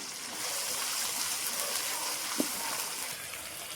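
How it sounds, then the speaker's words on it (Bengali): Ginger paste and green chili fry together in a pan for khichuri, giving a soft, steady sizzle with one brief clink partway through. "আদা বাটা দিলাম, কাঁচা লঙ্কা দিয়ে ভালো করে ভাজবো এখন আদার সাথে।"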